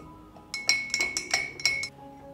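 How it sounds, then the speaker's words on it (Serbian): Salt is stirred into whey in a glass container, producing a quick series of about seven bright clinks from a spoon striking the glass, close and distinct, with no talk. "Stavit ću 2 kašičice soli, pa ću to promešati."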